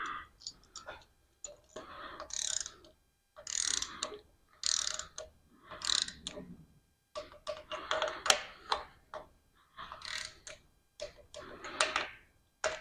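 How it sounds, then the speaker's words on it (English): A ratcheting torque wrench tightens rocker arms on a rebuilt engine, making close bursts of rapid metallic clicks separated by short pauses and repeated many times. "Rocker arms are all torqued down."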